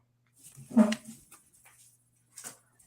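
A dog gives a short, quiet whimper, a soft whine that fades, then a faint second whimper a moment later in an otherwise silent room.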